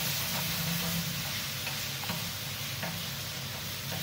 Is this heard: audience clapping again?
no